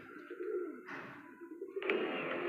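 Pigeons coo and call softly at close range, with bird vocalizations rising and falling over a low background hum.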